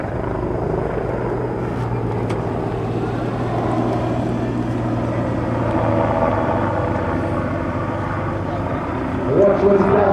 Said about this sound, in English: Watch what he does with his Bell 407 helicopter.